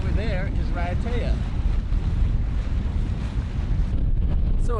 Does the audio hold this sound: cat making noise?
no